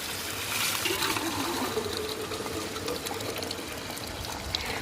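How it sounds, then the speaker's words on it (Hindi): Water pours steadily into a container at a mountain spring, a continuous close splashing rush with no talk. "यहाँ पे मैं फटाफट करके पानी भरती हूँ अभी"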